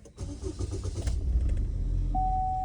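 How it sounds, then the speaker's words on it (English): Car engine turned over and brought back to life after a scan-tool test, a broadband crank rising into a steady close idle rumble, with a thin electronic tone appearing near the end. "We're going to start the vehicle up again."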